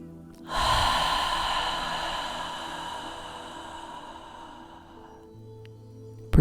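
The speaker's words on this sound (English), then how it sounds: "Breathing" A long, deep breath drawn in and slowly released during guided meditation, a single soft airy exhalation fading over several seconds, close and alone without talk.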